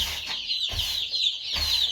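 Chicks cluck and peep in quick bursts, several birds close by in a cramped shed, with faint scratching and shuffling of scattered feed between calls.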